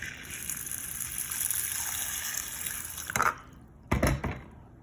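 Water pours over green lentils in a bowl, a steady close splashing stream that stops, then two short final gushes.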